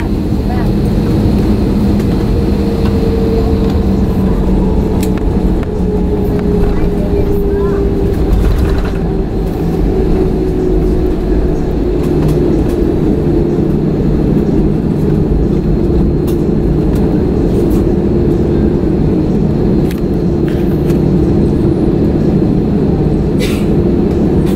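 A Frontier Airbus A321-211 jet takes off, heard from inside the cabin as a loud, continuous engine roar and rumble with a slowly shifting drone that holds steady the whole time.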